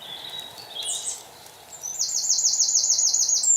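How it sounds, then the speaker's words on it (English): Outdoor birdsong in an ancient forest with high chirps and a rapid repeated trill, over a steady soft background hum, no voices. "I just hear the birds."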